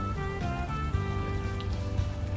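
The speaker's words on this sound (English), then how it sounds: "we just like the rain" Rain falls steadily in the video game Unavowed, a soft constant patter layered under sustained tonal game music, with no voices heard.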